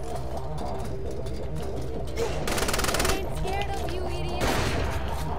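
Gunfire from Saints Row: The Third Remastered, with bursts of rapid shots standing out around the middle and again near the end over a steady bed of game noise and music.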